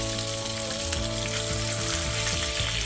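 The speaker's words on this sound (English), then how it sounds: "I'm gonna fry the rest of my fish" Trout fillets fry in a pan with a loud, continuous close-up sizzle and crackle that holds steady throughout, with no voices.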